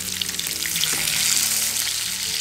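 Duck breast sizzling loudly in a hot pan, a dense, steady hiss and crackle of frying fat that swells slightly as the meat is flipped over.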